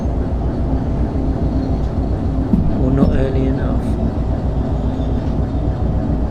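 Train rumbling along the track with brakes applied in the Derail Valley 2 railway game, a steady low running roar with a brief squeal partway through, heard under a voice.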